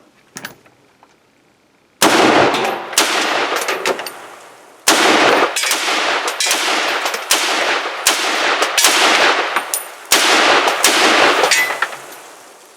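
Brownells BRN-10 AR-10 rifle fired at an outdoor range: a quiet lead-in, then a string of loud, sharp shots with ringing decay, spaced unevenly over about ten seconds.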